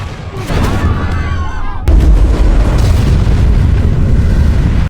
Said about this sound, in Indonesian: Joker pun meledakkan rumah sakit itu